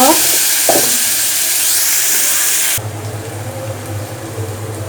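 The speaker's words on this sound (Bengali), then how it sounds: "আমি হচ্ছে পেঁয়াজটা ভাজা ভাজা করে নেব" Onion fries in a pan with a loud, close sizzle and some stirring. The sizzle drops abruptly partway through to a quieter hiss with a low hum.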